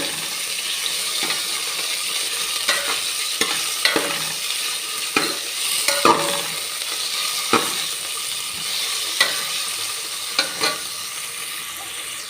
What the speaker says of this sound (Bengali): এইবার আমি এই চিকেনের পিসগুলো দিয়ে দেব।